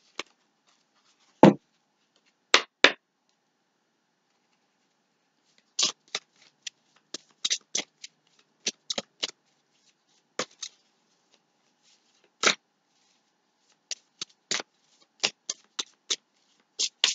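Tarot cards being shuffled by hand, a string of crisp, close riffles and snaps coming in irregular bursts with quiet gaps between them.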